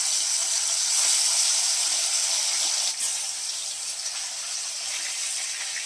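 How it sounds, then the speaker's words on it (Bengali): Tilapia fish frying in oil for a fish curry, giving a steady, loud broadband hiss and sizzle that runs unbroken and close throughout, with no talking. "আমি এখন মাছটাকে একটু ভেজে নিচ্ছি।"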